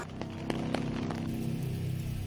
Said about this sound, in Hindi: जम्मू कश्मीर के रामबन जिले में आज तेज बारिश हुई।